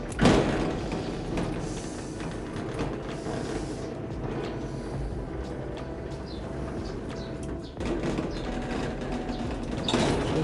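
Motor hum and rolling rumble from a Miller Technics 1000 automatic sliding gate as it opens and closes, steady and moderate over the whole span, with a couple of louder clunks near the start and end.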